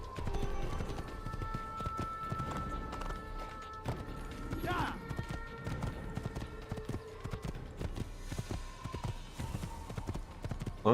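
A horse gallops in Assassin's Creed 1 with rapid, continuous clip-clop hoofbeats close up, carrying on for about ten seconds while a person talks over it and a brief crash-like sound cuts in near the middle.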